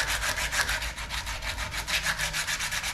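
Scrubbing steering part mating surfaces clean on a 1980 Ford Courier, a steady rhythmic rubbing and abrasive scraping in repeated strokes, close and fairly loud, with no talking.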